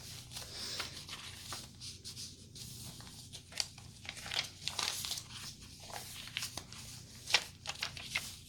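Sewing pattern paper being handled and crinkled alongside vintage graph paper for a junk journal, giving soft irregular rustles with sharper crackles and crumples up close, no talking.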